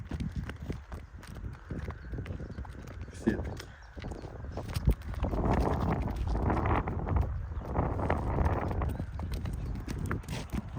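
Hooves of Novoaleksandrovsk draft horses clop in an uneven walking rhythm on a hard surface while wind buffets the microphone and a person speaks briefly.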